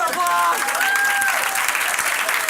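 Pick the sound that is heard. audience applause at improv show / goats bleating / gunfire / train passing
audience applause at improv show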